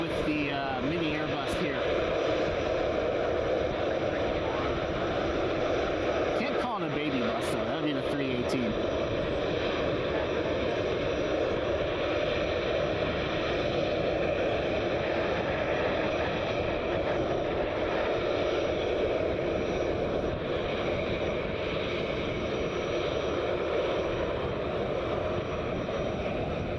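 Airbus A319-class jet on the ground at Cleveland Hopkins International Airport, a steady broadband engine roar with a windy rush running continuously at fairly close range.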